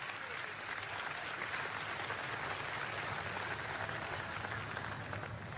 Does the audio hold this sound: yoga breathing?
no